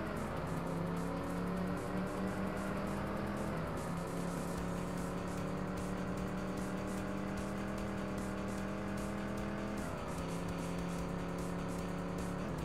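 A hotrod race car in TNN Motorsports Hardcore TR drones steadily at high revs, with abrupt dips and shifts in the engine note as it slides and scrapes, loud and continuous.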